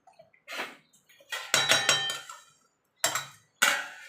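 Chicken pieces with spices are stirred in a pan for a Bengali chicken curry: a spoon scrapes and clanks against metal in short, irregular bursts with gaps between, close by and with no voices.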